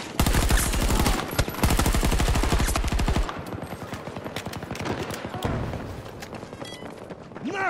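Heavy gunfire in Battlefield 2042 on PS4 Pro: dense, loud automatic bursts pound steadily for about three seconds, then give way to scattered, quieter shots and thuds mixed with game noise.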